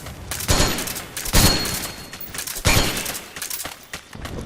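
Gunfire in the Metal Gear Online video game comes in loud, sharp bursts, several separate volleys of rapid shots with crackling reports spaced a second or so apart.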